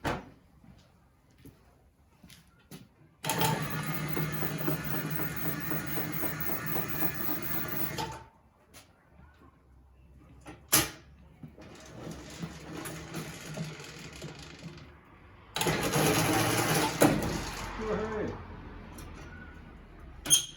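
A homemade electric wheelbarrow built from a snow blower runs its motor in two loud, sustained whirring stretches, with quieter clunks, rattles and talk between them.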